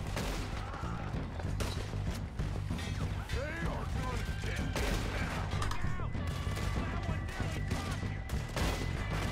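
Rapid gunfire in the video game Red Dead Redemption 2, repeated loud shots and impacts in a continuous dense barrage, with a voice talking over it.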